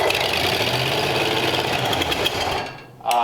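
An abandoned flathead race engine with a big cam, on full choke, runs loud and rough with a steady, close mechanical clatter, then sags and nearly dies just before the end and catches again.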